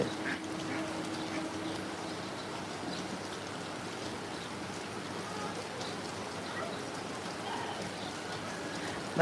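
Ducks quacking faintly through steady heavy rain outdoors, the rain a dense continuous wash throughout with the occasional duck call barely rising above it.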